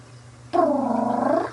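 A single drawn-out cat meow, close and fairly loud, with a slightly rough, buzzing tone, about a second long.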